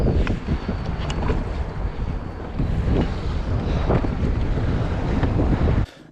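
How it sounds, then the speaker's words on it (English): Strong wind buffets the microphone in loud, steady gusts over open water while kayak fishing off New York City, with a low rumbling roar throughout before it drops off abruptly at the end. "It really started to get a bit windy and nasty out there, as you can probably tell."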